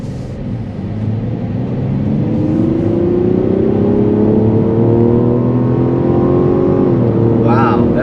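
A 2024 Mazda CX-90 engine accelerating under load, a smooth rising drone that climbs steadily through a long gear, close and loud from inside the car, then briefly dips near the end as it shifts.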